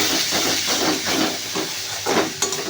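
Ginger, dried chilli and garlic paste sizzling in hot oil, a loud, dense, steamy hiss with soft stirring pulses underneath.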